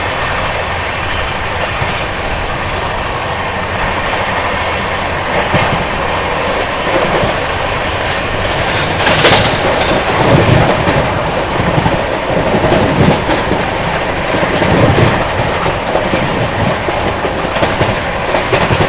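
Bihar Sampark Kranti Express passing straight through without stopping, a loud, sustained rush of wheels with rhythmic clickety-clack over rail joints and occasional metallic squeal, close by and unbroken.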